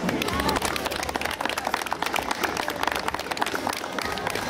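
Crowd applause at an outdoor integration picnic in a town market square, a dense, steady wash of clapping from many hands with some crowd noise mixed in, lasting throughout.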